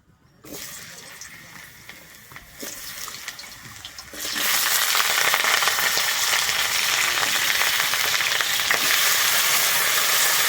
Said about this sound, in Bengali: তেলটা গরম হয়ে গেছে আমি প্রথমে আলু আর ফুলকপিটা ভেজে নেবো